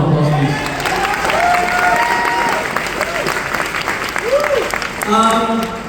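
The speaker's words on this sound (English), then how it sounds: "Can we give Seska a big round of applause," A large crowd claps and cheers after a speech at ROM 2024, a dense, loud, continuous wash of applause with voices shouting and whooping throughout.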